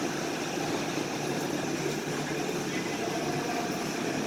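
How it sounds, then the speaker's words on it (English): A refrigerant recovery, vacuum and charge machine runs with a steady, even broadband whir and hum that holds constant throughout, close by and moderately loud. "we're going to turn the machine on"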